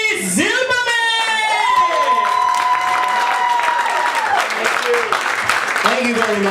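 Audience applause and cheering for a comedian at an open mic comedy show, a steady wash of clapping with whoops and tonal cries rising and sliding above it, loud and close throughout.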